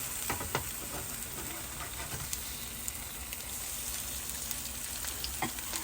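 Food frying and browning in a hot pan, a continuous close sizzle and crackle with faint stirring scrapes throughout, steady and moderately loud, no talking.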